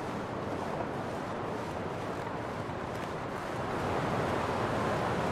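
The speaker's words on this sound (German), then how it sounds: "guckt euch mal den Wind an, das ist ja nicht normal" Strong, howling wind in the survival video game The Long Dark, a broad, rushing roar that swells slightly louder toward the end, steady and continuous with no voices.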